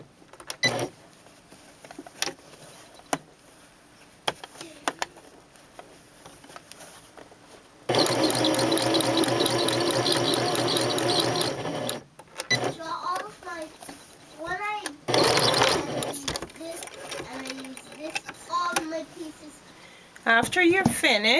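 A sewing machine stitches the fabric of a gift bag in two sustained runs, a longer burst and a shorter one, between stretches of a person talking over brief mechanical clicks.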